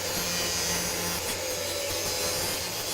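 A power tool plunge-cuts deep into a thick bumper grille on a Lexus GX460, giving a steady, dense, close grinding roar that holds throughout with no pauses.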